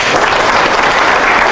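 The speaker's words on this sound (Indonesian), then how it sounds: "Ya, berarti kita tepuk tangan sama dia." A dense burst of audience clapping fills the room, loud and continuous for a moment with no voices rising above it.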